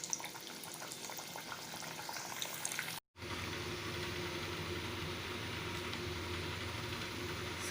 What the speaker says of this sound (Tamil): எண்ணெய் சூடாயிருச்சு. எடுத்து வச்சுருக்க வடைகளை போட்டுக்கலாம்.